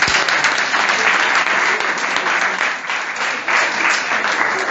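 An audience at a psychology and spirituality seminar applauds steadily, a dense, loud wash of clapping that holds evenly for about five seconds with no speech over it.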